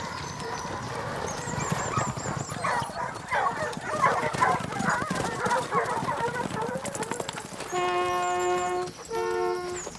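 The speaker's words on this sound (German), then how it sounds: "Zur Jagd gehören natürlich Hunde." Hunting dogs bark and yip in a loose, overlapping chorus at close to middle distance, followed by a few sustained horn-like tones near the end, all without talk.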